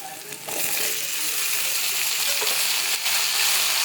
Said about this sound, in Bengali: বেগুনটা ছেড়ে দিলাম। বেগুনটা ভালো করে ফ্রাই করে